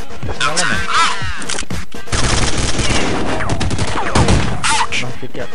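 Loud rapid gunfire in Counter-Strike 1.6, dense continuous shooting close up with a voice speaking over parts of it.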